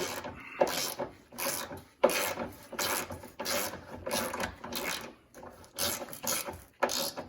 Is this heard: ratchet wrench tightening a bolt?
yes